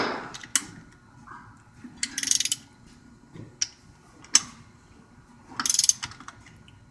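A wrench loosens bolts on a reciprocating compressor in a workshop, giving several separate bursts of quick ratchet clicking and sharp metallic knocks spaced a second or so apart, close and moderately loud over quiet background.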